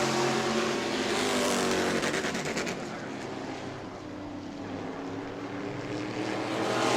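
E-Mod race cars roar past on the New Smyrna track, engines loud and continuous with a sweeping pass that swells, fades slightly, then builds again.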